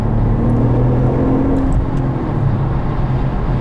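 A 2012 Porsche Turbo S Cabriolet engine pulls hard in third gear near 4,000 rpm. The loud, close, continuous roar is heard from inside the car, with no talk over it.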